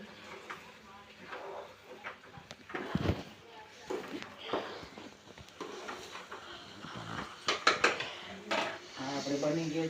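A rotla vegetable dish with fresh coriander is stirred in a pot, giving scattered metallic scrapes and clinks of a spoon against the vessel under a speaking voice.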